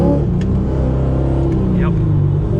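A C5 Z06 Corvette on Michelin tires accelerates hard from a rolling start on a back road, its loud, close engine droning steadily with a short rising squeal of spinning tires near the end.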